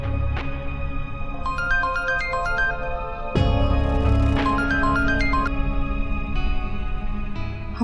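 A phone rings with an incoming office call: a bright, repeating electronic melody, loud and close, sounding alone with no one talking.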